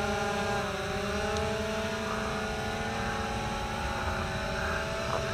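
An XK Detect X380 gimbal drone lands automatically on a road, its propellers giving a continuous, fairly loud buzzing whine whose pitch drifts slightly downward throughout.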